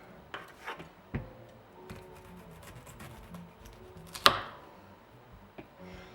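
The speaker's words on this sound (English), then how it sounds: "All right, here I go chopping off the ends." A knife chops the ends off beets on a cutting board in a few sharp, separate strikes, with quieter scraping and handling sounds between them.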